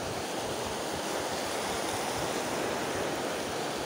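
Ocean waves wash and surge continuously nearby, a steady broad roar of surf with no talking.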